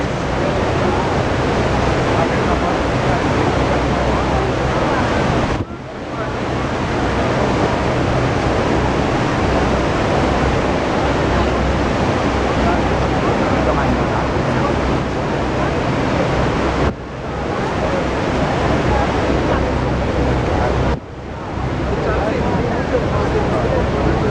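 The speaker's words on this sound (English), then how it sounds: "American waterfall." American Falls at Niagara roaring as a loud, dense, continuous rush of falling water, with wind buffeting the microphone and a few brief dips in the roar.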